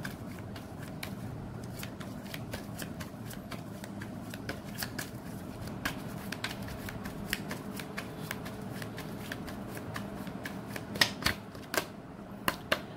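Tarot cards are shuffled softly and continuously up close, a quiet riffling patter with a few sharper snaps toward the end.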